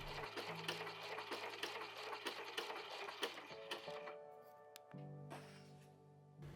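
A sewing machine stitching around the opening of a fabric bag, a rapid steady mechanical whir and clatter that runs for several seconds, then slows and stops with a few softer clicks, close and alone.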